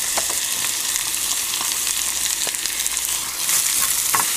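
Onions sweat in garlic-infused butter in a pan for Cajun spiced potatoes, a steady close sizzle with faint crackles and a few soft stirring knocks, no talk.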